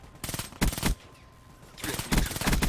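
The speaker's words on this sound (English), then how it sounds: "Silencer actually isn't bad on this thing." Silenced Ripper submachine gun fire in Call of Duty: Black Ops 3, two loud rapid bursts of muffled automatic shots separated by a short pause.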